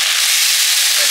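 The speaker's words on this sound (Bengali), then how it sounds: "জল দিয়ে দিচ্ছি।" Water poured into a hot pan for fish curry, a loud, close, continuous hiss of steam and sizzle lasting about a second.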